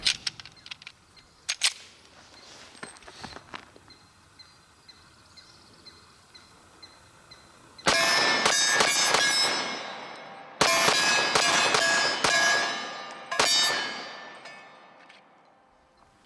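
A Dan Wesson Pointman Carry 1911 pistol with a rusty hammer fires from a 10-round Cobra magazine: after a few faint clicks, two rapid strings of sharp, ringing shots crack out loud and close, each ending in a fading echo.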